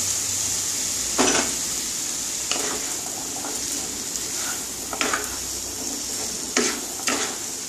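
Snake gourd frying with prawns in a pan, a constant close sizzle broken by several brisk scraping stirs of a spatula against the pan.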